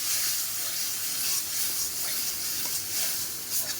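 Jackfruit and potato pieces fry in oil in a pan, a steady close sizzling hiss that runs continuously without pause.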